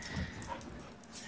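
A dog whimpers softly indoors, with faint, brief whines and small yips spread across a short moment over quiet background noise.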